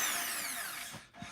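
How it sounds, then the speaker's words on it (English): A power drill runs on a OO gauge model railway layout, a steady whining drone that slowly winds down and stops, heard alone at moderate distance. "So you'll hear Rob drilling because he's having a play around with lighting"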